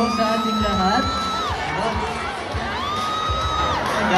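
Large crowd at a mall show cheering, whooping and shouting, a loud sustained roar with high excited voices rising and falling throughout.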